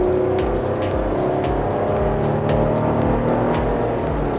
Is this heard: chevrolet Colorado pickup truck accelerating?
yes